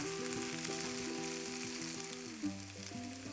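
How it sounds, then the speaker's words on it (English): Potatoes and cauliflower florets fry with onions in a pan for a sabji, giving a steady, close sizzle with a few soft stirring scrapes and no talking. "Stir it well so it blends nicely with the onions."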